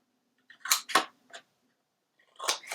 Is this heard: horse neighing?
no